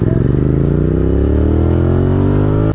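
A motorcycle fitted with an aftermarket exhaust revs hard and accelerates, its loud, close engine note climbing steadily in pitch with a rough, clattering edge before cutting off abruptly at the end.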